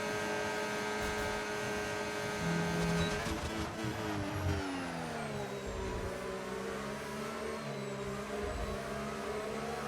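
Aston Martin race cars scream down the Mexico City straight in a sim racing game. The engines drone steadily, and pitch sweeps mark the gear changes and passing cars. A faint hum runs underneath, and there is no talk.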